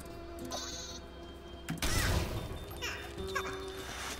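In Worms W.M.D, the sheep weapon bleats in short game-audio bursts, followed by a crash-like explosion and further faint bleats, with no talk.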